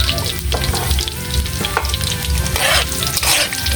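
Onion stir-fried in a hot pan for adobong kangkong, with a loud, continuous frying hiss and bursts of stirring scrapes close up.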